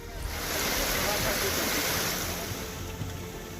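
Flash flood water after a cloudburst surges through a residential area, a loud, dense, continuous roar of rushing water close by, steady throughout with no distinct pauses.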